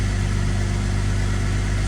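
A BMW E46 engine idles under the hood during cooling system bleeding, giving a steady, loud, low rumble with an even pulse for the whole moment.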